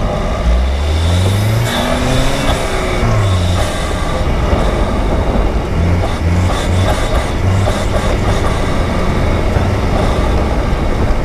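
A Chevrolet Camaro driven around a rallycross track, its engine droning loudly and continuously with rising and falling revs and rumbling road noise, heard from inside the car.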